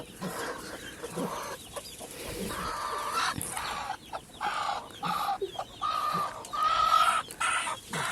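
Hens cluck repeatedly in short, uneven bursts, fairly close, with several birds overlapping and a busy farmyard background.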